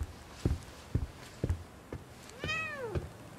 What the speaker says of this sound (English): Is that another cat?